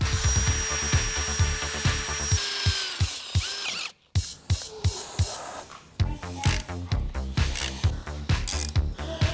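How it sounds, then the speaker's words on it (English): A loud mechanical drill grinding and ratcheting in bursts as it bores through metal on a Toyota Land Cruiser, with a brief pause before the rough, chattering drilling resumes up close. "I'll drill it upside down like this so all the metal shavings go down straight onto the ground"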